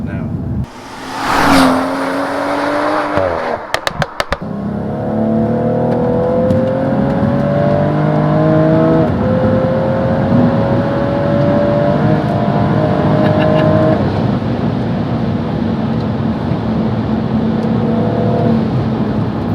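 A Stage 2 BMW M135i climbs hard through the revs under way, its engine note rising in long, loud sweeps with quick shifts between. A burst of wind noise comes first, and people talk over the drive.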